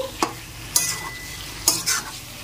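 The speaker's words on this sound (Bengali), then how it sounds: "খুব ভালো করে কড়াইয়ের মধ্যেই কষাতে থাকবো।" Chicken chunks scraped and tossed around a hot wok, a few distinct stirring strokes over a low sizzle.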